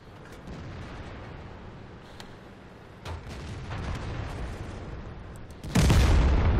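Artillery shell impacts in World of Tanks, scattered sharp pops and low rumbles building gradually before a sudden loud, close blast near the end.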